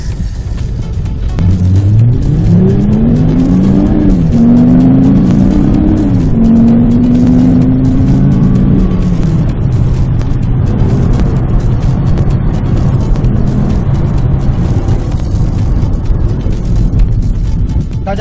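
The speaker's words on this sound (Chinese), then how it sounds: "各位来听一下 V6 引擎 AMG 排气管的声浪" A Mercedes-Benz SLK280 AMG with a V6 engine revs through its exhaust in rainy weather, a loud, close, continuous throaty note climbing and falling in pitch over a steady low rumble, with no talking.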